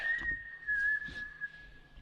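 A person whistles a short tune opening, a clear sustained steady-pitched whistle running throughout with slight pitch glides, close and fairly loud over faint background noise.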